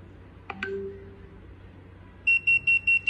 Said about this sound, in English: Around 50 seconds, the door will automatically be buzzing.